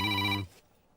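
A telephone ring during a call, one short, loud electronic tone that cuts off abruptly after half a second, leaving near silence.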